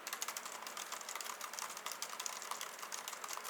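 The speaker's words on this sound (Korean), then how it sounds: "잠깐 타건 사운드를 들어보시면" Quick, steady keystrokes on a Hansung GK694 Officemaster mini keyboard, a quiet office-style board, form a dense, even patter of soft clicks heard up close with no talking.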